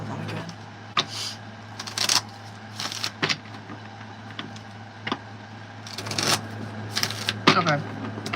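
Tarot cards are shuffled in several quick riffling bursts of papery crackle, spaced irregularly over a steady low hum, close and moderately loud, with no talk over them.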